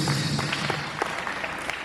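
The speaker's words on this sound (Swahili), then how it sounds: "Shangilie Bwana kwa makofi." Congregation clapping hands in praise during a church service, a steady crowd patter of many hands close and moderately loud throughout, with no voices over it.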